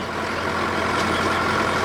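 A tractor engine runs steadily, a continuous loud rumbling drone with no breaks and no speech over it.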